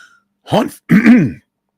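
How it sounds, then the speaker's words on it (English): A person clears their throat twice in quick succession, close and loud, a short gruff rasp followed by a longer one. "I must clear my throat."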